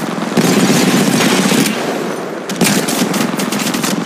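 Gunfire in the video game Apex Legends: rapid automatic bursts, loud and close, with a short pause midway before another burst, no talking.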